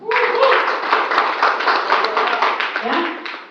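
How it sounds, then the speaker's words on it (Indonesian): Audience clapping at a product presentation in Indonesia, a dense steady patter of many hands for a few seconds, with voices talking over it. "Tepuk tangan, Pak."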